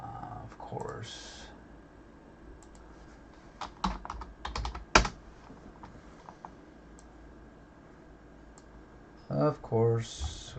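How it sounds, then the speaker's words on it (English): Someone types on a computer keyboard at a desk, producing scattered, fairly quiet key clicks and a few sharper taps, with some muffled speech-like sounds near the end. "I try to do my best on my typing here."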